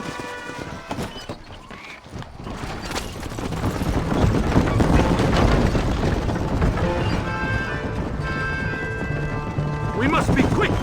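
Horses gallop in the Red Dead Redemption video game, a busy rhythmic clatter of hooves under a continuous soundtrack, with a voice speaking over it.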